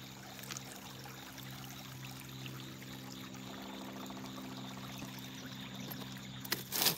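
Water trickles and pours gently in a tiny creek, a soft continuous flow under a steady low hum, with a brief louder knock near the end.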